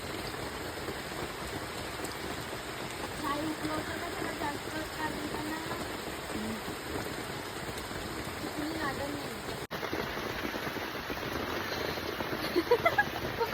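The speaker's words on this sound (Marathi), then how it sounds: "पाऊस पण खूप येतोय" Steady heavy rain hisses throughout, with people talking over it and a few sharper splashes near the end.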